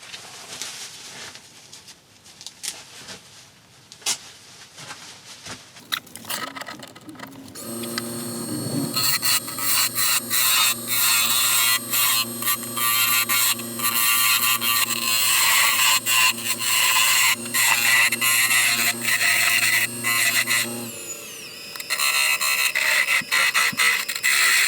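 A wooden egg is parted off on a spinning wood lathe: light scraping and tapping give way to a loud, steady grinding rasp with a droning motor tone, then a brief change near the end, close and without talk.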